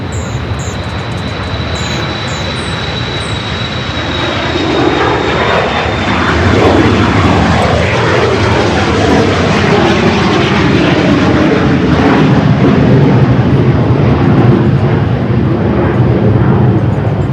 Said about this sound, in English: Starting its roll down to 24 left to see how fast it rotates here.